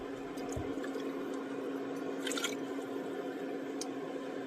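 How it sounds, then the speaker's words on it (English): A thin stream of water trickles and splashes steadily into a food can, with small drips and a brief louder gurgle midway, over a constant background hum. "I'm going to add a little water to that can"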